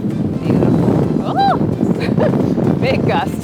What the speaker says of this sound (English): Oh! Big gust.